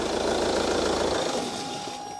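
A car engine idles steadily during a DPF cleaning job, then cuts off partway through, its low rumble fading into quiet with a faint lingering tone.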